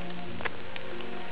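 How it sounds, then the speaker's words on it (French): Steady rain falls outdoors during a metal-detecting outing, a soft even patter with a few brief drop taps, fairly quiet and close, with no talk. "Il pleut toujours."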